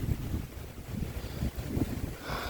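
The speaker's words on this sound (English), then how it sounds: "Sorry, it's a little windy out here." Wind buffets the microphone out on the water aboard a 2020 Vibe Shearwater kayak, a steady low rumble of gusts with no talking.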